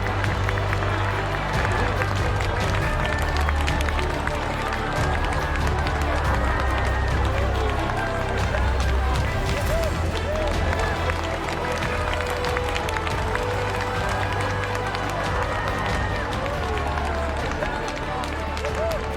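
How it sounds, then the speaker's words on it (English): At a modified-car race meeting, a crowd cheers and applauds the winner on his victory lap, a steady wash of clapping and crowd noise under continuous commentary over the loudspeaker. "look at the crowd reacting to him"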